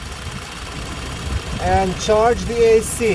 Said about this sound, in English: The engine is quite loud.